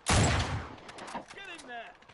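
Burst of gunfire in the Uncharted: The Nathan Drake Collection crypt, a loud sharp volley at the start that decays into echoing rumble with smaller cracks and debris after.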